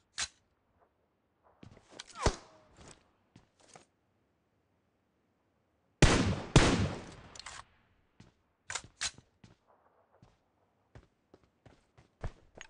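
Sharp gunshots crack from a firefight in PUBG Mobile, scattered single reports and a dense burst midway, separated by quiet stretches with faint in-game movement sounds.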